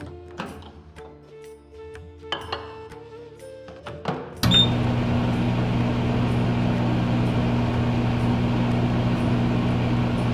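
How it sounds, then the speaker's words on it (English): An 800-watt microwave oven runs with a steady, loud mechanical hum and low drone after a door clunk and some handling clatter. The drone continues evenly to the end, with no talk. "You may need to adjust the times depending on the power of your microwave."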